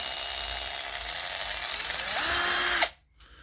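A Deko cordless drill-driver whirs at speed, a steady close motor whine that climbs briefly in pitch, then cuts off sharply and spins down into near silence.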